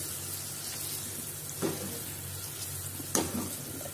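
Yogurt-marinated chicken fries with spices in a pan with a soft, steady sizzle, while a spoon knocks against the pan twice as the pieces are stirred.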